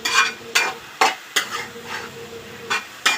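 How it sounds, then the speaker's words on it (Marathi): Shepu (dill) greens sautéing in oil with dal, onion, garlic and chili paste, a soft sizzle broken by about seven sharp spatula scrapes and clinks against the pan at an uneven pace, close up. "छान अशी मस्त भाजी आपली तेलामध्ये मस्त डाळीमध्ये कांदा लसूण मिरचीच्या ठेच्यामध्ये मस्त अशी परतून घेऊया"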